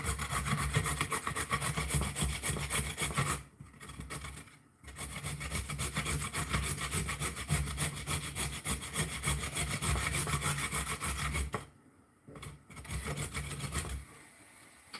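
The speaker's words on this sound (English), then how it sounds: "Just gonna keep grating away." Steady rasping strokes of food being grated by hand in a home kitchen, loud and continuous with a few brief pauses, no talking.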